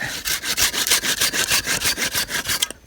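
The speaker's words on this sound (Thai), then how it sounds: "เลื่อยตัวนี้ออกแล้วก็จัดการตัวนี้" A hand saw cuts through a teak tree branch in fast, even back-and-forth strokes, loud and close, before stopping abruptly at the end.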